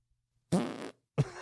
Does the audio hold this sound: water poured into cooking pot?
no